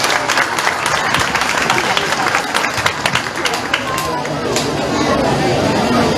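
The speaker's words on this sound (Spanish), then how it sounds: "Fuerte ese aplauso, ¿verdad?" Crowd applause for schoolchildren at a school civic event, loud sustained clapping from many hands mixed with murmuring chatter and voices throughout.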